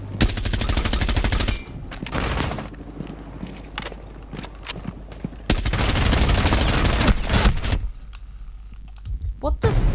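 Pistol gunfire in Rainbow Six Siege, loud rapid shots in two long sustained bursts separated by scattered single cracks and footsteps, with voices talking over the action.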